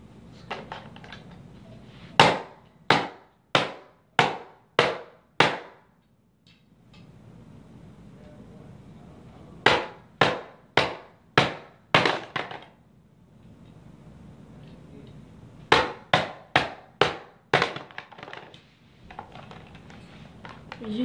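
A toy being smashed with a hammer: three sharp bursts of five or six hard, evenly spaced blows each, separated by short pauses, loud and close.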